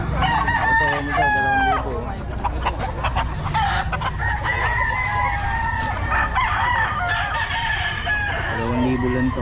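Rooster crowing at a busy Filipino market day where fowl are sold, several crows rising over dense crowd chatter and clucking, with people talking and haggling throughout.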